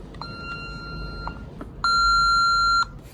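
An alarm system keypad beeps as it powers up: a steady electronic tone for about a second, a short gap, then a louder, brighter beep of similar length, with no talking.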